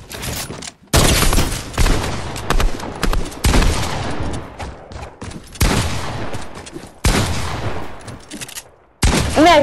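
Rifle gunfire in a video game: loud, rapid volleys of shots in several bursts separated by brief silences, with sharp reports and booming echoes close up.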